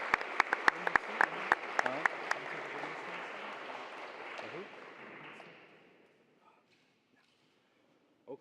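Applause from an audience at a college sports awards ceremony, crisp claps for the basketball team that fade out after about five seconds into near silence, with a brief voice at the end.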